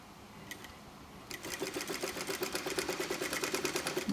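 A sewing machine stitches stretched elastic, starting with a few soft isolated ticks before settling into a quick, even run of mechanical clacks, close and fairly quiet with no talking.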